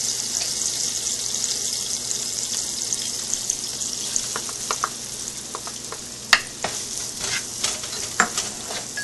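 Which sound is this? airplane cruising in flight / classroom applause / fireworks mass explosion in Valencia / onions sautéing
onions sautéing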